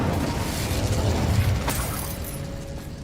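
A fire spell cast in the Hogwarts Legacy video game bursts with a loud, sustained whooshing roar that swells and then fades over a few seconds, with a sharp crackle midway.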